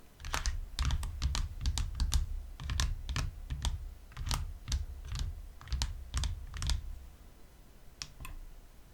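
Tapping recorded on a Zoom H4n recorder: a quick, uneven series of sharp, close clicks like fingers on a hard surface, in short bursts with brief pauses.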